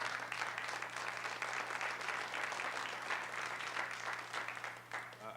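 Audience at a town hall meeting gives sustained, even applause for about five seconds, moderately loud in a room with a faint steady hum beneath.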